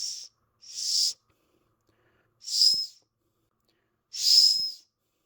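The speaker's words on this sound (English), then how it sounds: "And let's try that whistle out as well." Four shrill, breathy blasts from a small survival whistle, each about half a second long with short silent gaps between them, close and not very loud.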